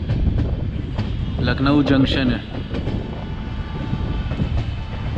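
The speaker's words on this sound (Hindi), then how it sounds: "अब ये एंटर हो रही है फाइनली लखनऊ रेलवे स्टेशन में।" A passenger train rumbles steadily as it pulls into Lucknow railway station, heard from on board, with someone speaking briefly over the low, constant rolling noise.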